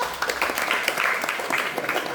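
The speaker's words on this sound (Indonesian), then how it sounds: "Kasih tepuk tangannya dulu." Classroom of tenth-grade students at a senior high school in Cianjur clapping together during a pencak silat lesson, a dense, steady patter of many hands close by with some voices mixed in, lasting about two seconds.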